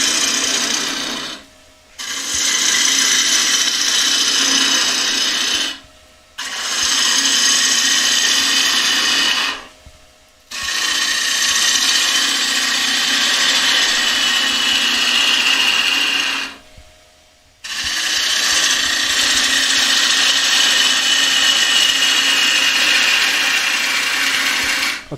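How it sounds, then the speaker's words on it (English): Wood lathe turning a thin-walled bowl, with a tool cutting into the spinning wood: sustained, fairly loud scraping and hissing passes broken by four brief pauses, with no talking. "I'm going to take a little bit off the top here. Get a little bit more speed in the lathe."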